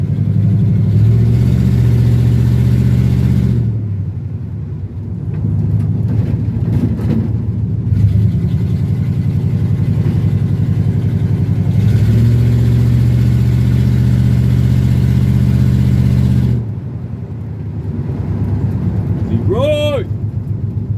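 A 1954 Chevrolet Bel Air two-door hardtop with no exhaust fitted, its engine droning loud and close in a steady low rumble with a few revving surges, briefly easing off midway before resuming.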